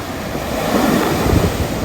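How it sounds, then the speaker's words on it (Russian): Sea waves breaking on a French shore, a steady broadband roar of surf with rising swells, heard close with some wind buffeting the microphone and no talking. "О, прям волны, да?"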